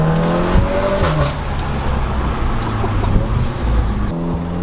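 A tuned Volkswagen Golf 7R Stage 2 revs hard through the gears in the small village of Saint-Martin-de-Londres, its engine note climbing and dropping with gear changes, loud and close throughout.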